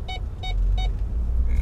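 Warning beeps inside a pickup truck, three evenly spaced electronic beeps over a low engine rumble, with a fourth starting at the end.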